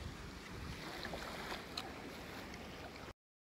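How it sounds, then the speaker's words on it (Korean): Calm sea at Yongdong beach in Goheung, a soft steady wash of small waves with wind noise on the microphone, faint and continuous before cutting out abruptly. "잔잔한 파도."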